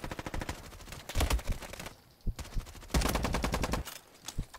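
Shots from a 10-round magazine gun in a Roblox shooter video game ring out in rapid sequences, two loud bursts separated by a short pause, up close and without talk.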